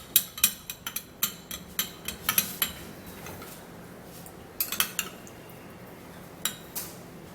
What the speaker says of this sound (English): you would have to stir it again